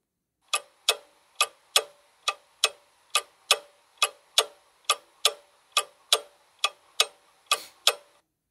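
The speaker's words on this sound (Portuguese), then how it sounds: "Ou curto, como o tic-tac do relógio." A clock ticks steadily, about two sharp clicks per second, crisp and close, with no other sound around it.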